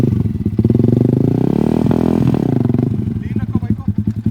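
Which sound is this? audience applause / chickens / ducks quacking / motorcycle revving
motorcycle revving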